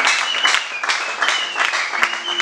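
A church congregation claps and applauds steadily during a worship service, with scattered cheers and a voice faintly underneath.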